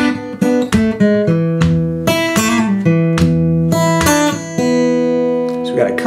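A Delta blues guitar lick plays close and clear, with plucked, ringing notes in a halting rhythm over a steady bass line, each attack sharp and sustaining before the next.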